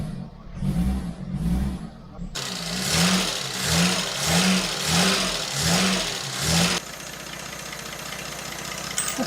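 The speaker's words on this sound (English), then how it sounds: "This is what you call a smooth engine." An abandoned car's revived engine runs smoothly with a steady, even rhythmic pulse, loud and close, then cuts to a quieter hum near the end.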